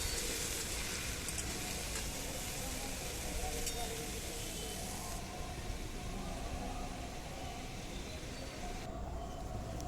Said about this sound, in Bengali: এবার কড়াইতে সামান্য পরিমাণে তেল দিয়ে আমি ডাঁটাগুলো দিয়ে হালকা একটু কষে নেব